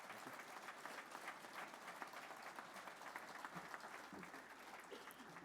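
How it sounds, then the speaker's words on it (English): An audience at the PGA of Canada awards night applauds steadily for a Hall of Fame inductee, a dense, even wash of many hands clapping that sounds somewhat distant and faint throughout. "Please clap for Dave because it's being recorded."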